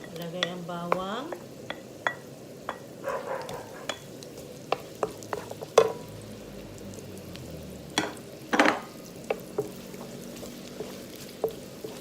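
Garlic frying in butter and olive oil in a pan for a clam spaghetti, a soft steady sizzle with a spoon clinking and scraping against the pan in irregular taps throughout.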